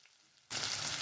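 Hot oil suddenly erupts into a loud, crackling sizzle as fennel seeds, curry leaves, dried chillies and shallots hit the pan, continuing in a steady hiss.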